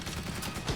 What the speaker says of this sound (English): Fire up the T-shirt cannon, fella.